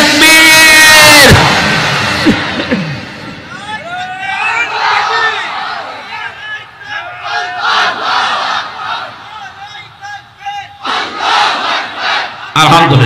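A large crowd at a Bangla religious gathering roars Allahu Akbar in answer to a takbir call, loud massed shouting at the start followed by scattered yells, whoops and bursts of crowd voices.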